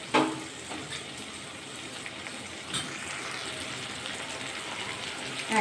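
Spice masala being sautéed in a pan for a vegetarian paneer chana masala with kabuli chickpeas, a steady soft sizzle and hiss running throughout with a few brief clicks of a spoon, no talking.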